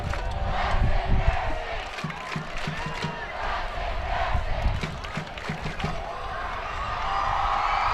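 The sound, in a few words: two football crowds chirping at each other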